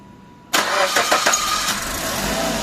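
A car engine, after a radiator leak repair with replaced water pump pipes, cranks and catches abruptly, then runs at a steady, close, loud idle with no talking.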